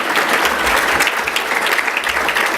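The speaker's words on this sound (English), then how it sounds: "Yep, that's a good applause." An audience at a city government State of the City event claps steadily, a dense, even wash of applause.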